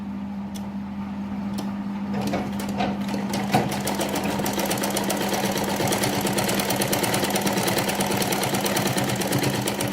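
A sewing machine stitches the hem of a kurti with a steady, continuous mechanical whir and a low hum throughout, close and fairly loud, with no talking.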